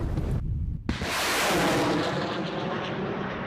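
A sharp launch blast from a truck-mounted rocket artillery launcher is followed by a long, loud roar that slowly fades into the distance as the rocket streaks away.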